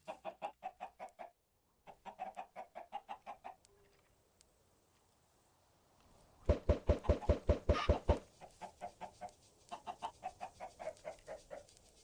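Minecraft chickens clucking in several rapid rhythmic bursts, close and clear, with one louder, denser flurry in the middle and quieter stretches between.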